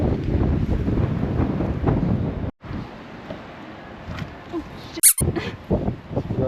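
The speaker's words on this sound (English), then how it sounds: "Oh, it's getting windy." Gusty wind on the Oregon coast during a hike up God's Thumb, buffeting the microphone as a steady low roar that cuts out briefly twice.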